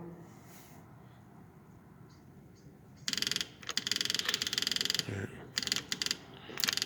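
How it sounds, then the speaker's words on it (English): A car's electric fuel pump is switched on, followed by a loud mechanical whirring and clicking in bursts that start suddenly and run on with short breaks, close by. "let's set our fuel pump on"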